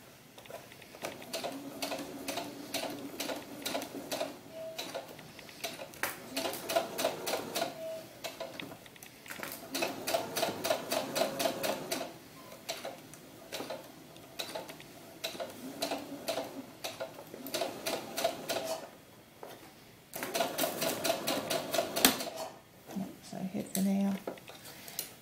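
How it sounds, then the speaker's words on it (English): Sewing machine stitching the pleats and waistband of a doll's historical ball gown, running in repeated rapid ticking bursts separated by short pauses, close and fairly steady, with talk heard over parts of it. "I'm also sewing on the side where the pleats are too, so I can double check my pleats to make sure they're laying flat"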